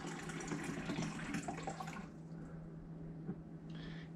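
Filtered water poured into a smoothie blender jar holding banana, a broad splashing pour lasting about two seconds, then a quieter trickle and a brief high clink near the end.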